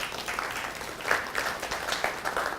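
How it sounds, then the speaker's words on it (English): A room full of people applauds book award winners, dense continuous clapping at moderate level with a few louder claps popping out of the steady wash. "So give yourself a round of applause."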